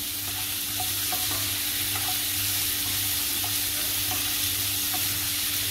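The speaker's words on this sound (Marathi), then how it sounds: "कांदा परतून घेऊया आपण थोडा" Chopped onion sautéing in a pan for a methi batata (fenugreek and potato) dish, a steady close sizzle with soft scraping stirs and a low hum underneath, no talking.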